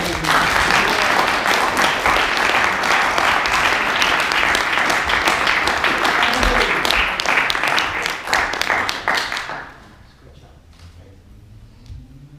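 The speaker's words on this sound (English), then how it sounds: "Can we give a round of applause for Nasir?" A student Toastmasters meeting audience gives a sustained, dense round of applause that fills the room for about nine seconds, then abruptly dies away to quiet background.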